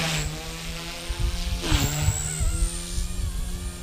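A Blade 150 S RC helicopter hovering nearby, its small tail motor giving a steady high whine over buzzing main rotor drone that briefly swells, no talking.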